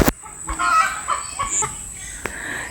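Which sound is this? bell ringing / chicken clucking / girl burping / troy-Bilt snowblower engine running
chicken clucking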